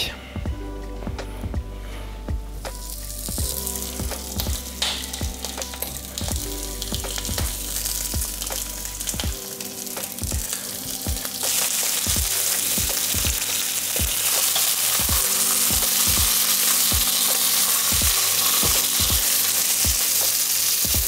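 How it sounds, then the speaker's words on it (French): Mackerel fillet searing skin-side down in a very hot pan gives a loud, steady sizzle and spitting fry that builds and fills the background, with occasional clicks and scrapes of the pan. "votre poêle bien chaude. Et on va donc marquer côté peau en premier"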